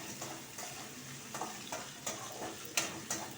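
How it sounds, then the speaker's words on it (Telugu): Ginger and green chillies fry in a pan for a curry, giving a steady soft sizzle broken by several sharp stirring scrapes and clicks of a spoon against the pan. "ఇప్పుడు ఇది వేగనిద్దాం బాగా. అల్లం పచ్చి అంతా పోవాలి, పచ్చిమిరపకాయలు పచ్చి కూడా పోవాలి."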